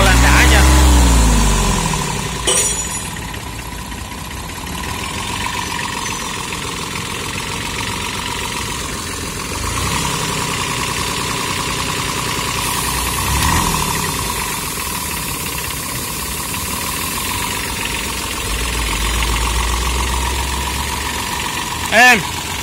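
A Kubota tractor diesel engine idles with a steady low knocking rumble, close and fairly loud, while people talk over it at times.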